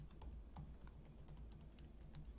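Code typed on a computer keyboard during a PHP programming lesson, a quick irregular patter of close, light key clicks over a low steady hum, with no talking.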